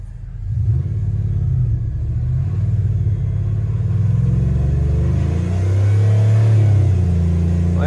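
A Dodge Ram pickup truck engine revs up toward 4,000 RPM, a loud, close rumbling roar that climbs after a brief start and holds high, with no talking.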